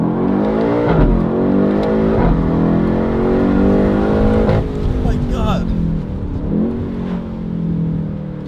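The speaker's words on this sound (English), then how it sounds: "I can't believe this is just an exhaust and how much it wakes this car up." A BMW M8 with a Valvetronic Designs exhaust revs loudly nearby, its engine note rising and falling through several deep, rasping pulls with brief dips between them. A voice speaks over the engine at points.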